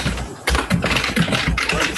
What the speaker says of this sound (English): Someone has a very loud keyboard.